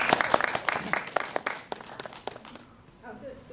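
An audience at a special guest-visit screening of Under Your Bed at COEX Megabox in Seoul claps in a burst of sharp, close, uneven applause that fades out after about two and a half seconds, followed by quiet talking.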